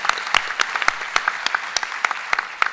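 Audience applause at the AAAI 2019 debate on the future of AI, a crisp burst of many hands clapping fairly close, with individual sharp claps standing out from the crowd for a few seconds.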